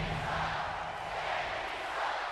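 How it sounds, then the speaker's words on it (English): A vocal wrestling crowd in WWE 2K23 at an NXT Roadblock event keeps up a steady, distant roar of cheering and chanting, an even wash of arena noise with no commentary over it. "Crowd very vocal."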